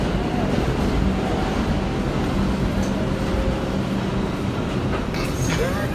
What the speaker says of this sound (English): Bring the train!